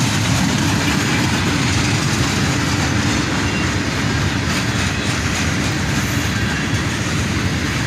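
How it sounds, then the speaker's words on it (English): A mostly empty northbound steel freight train led by a pair of ES44AC locomotives passes close by, a loud steady rumble with rhythmic clickety-clack of wheels over rail joints throughout. "A pair of ES44 ACHs lead this mostly empty, northbound steel train."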